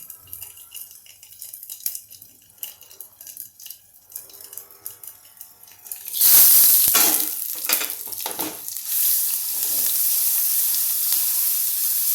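Quiet clinks and stirring give way to a sudden loud sizzle as a green spice paste hits hot oil with turmeric, asafoetida and mustard seeds, crackling intensely before settling into a steady fry.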